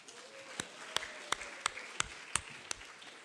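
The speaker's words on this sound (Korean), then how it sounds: "네, 박수 한번 하겠습니다." A small Korean church congregation at a Sunday worship service claps in about seven slow, distinct, evenly spaced beats over a faint, quiet room background.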